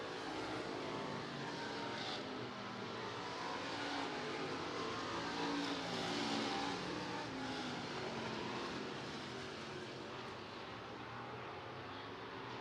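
Stock cars race on a dirt speedway at a county fair, a dense continuous roar of engines heard from a distance, steady and unbroken for the whole stretch with no clear commentary.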